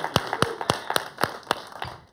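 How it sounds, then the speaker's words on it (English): Steady rhythmic hand claps at an improv comedy show, sharp and evenly spaced about four per second, close and fairly loud with no talking. "Let's give them a round of applause."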